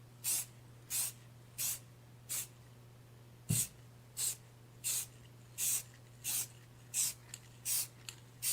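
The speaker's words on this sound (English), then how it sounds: "give it a good old spray job" Spray paint misted onto model railroad track ballast in short bursts, about a dozen close hissing sprays with brief pauses between, over a faint low hum.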